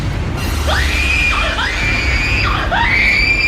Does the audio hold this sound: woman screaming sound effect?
yes